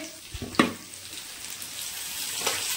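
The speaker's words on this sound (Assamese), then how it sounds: "এয়া মাছ ফ্ৰাই কৰি আছো" Fish frying in a pan in a home kitchen, a steady faint sizzle with a couple of brief clatters near the start and a soft knock later.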